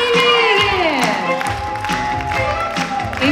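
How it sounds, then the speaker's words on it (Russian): An audience at a dance performance claps and cheers loudly and steadily, with scattered shouts rising over the applause. "Эти аплодисменты звучат для вас!"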